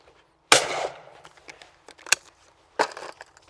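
A shotgun firing at clay targets, two sharp loud blasts a couple of seconds apart, each with a short decaying tail, with faint clicks and handling noise between them outdoors.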